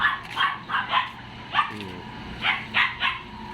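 A newborn corgi puppy yips and whimpers in a series of short, high, repeated cries at close range, with brief pauses between bursts and no talking.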